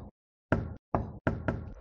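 Knocking on a door in a video game: a short tap, then three close, solid knocks after a pause, then a quick double knock, near and alone.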